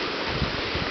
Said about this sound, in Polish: Zburzone morze.